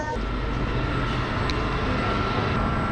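A train pulls into a station in Italy, heard as a loud, steady rumble and roar that fills the space continuously, with no distinct pauses.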